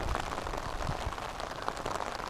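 Cold rain falls steadily on a windy Appalachian Trail ridge, with a continuous soft patter of drops striking an umbrella overhead.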